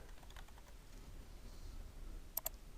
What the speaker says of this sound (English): I'll go ahead and type rotate